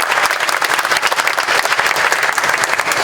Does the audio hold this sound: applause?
yes